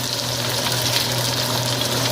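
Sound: rohu fish frying crisply in oil

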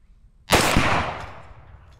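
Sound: Firebird 65 firework explosion

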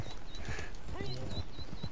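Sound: horse hooves clip-clopping, from video game Red Dead Online

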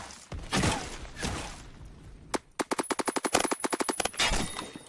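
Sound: SCAR PDW gunfire in the video game Phantom Forces

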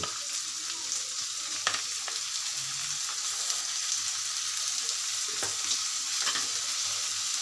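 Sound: frying onion with garlic and cumin paste

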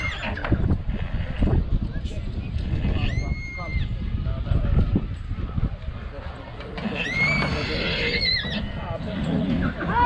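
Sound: horse neighing

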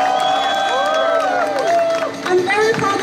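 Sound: crowd applause and cheering for show ladies

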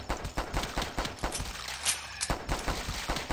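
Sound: gunshots at zombies in the video game The Last Stand

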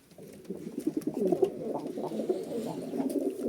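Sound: pigeons cooing

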